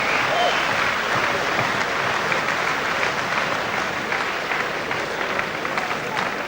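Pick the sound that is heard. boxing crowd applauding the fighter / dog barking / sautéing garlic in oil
boxing crowd applauding the fighter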